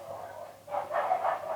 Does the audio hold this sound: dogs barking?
yes